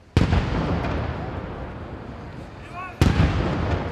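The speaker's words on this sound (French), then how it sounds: "Ils ont tiré les canons pour la venue du roi." Ceremonial cannons fire a salute in Madrid for the arrival of the king, with two loud, sharp booms about three seconds apart. Each boom is followed by rumbling echo and crowd ambience.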